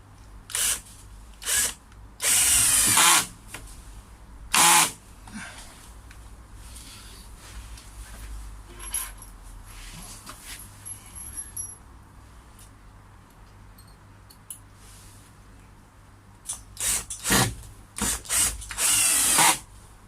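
A power drill drives the final screws into a wooden koi pond frame in several short, loud whirring bursts separated by quieter pauses and handling noise.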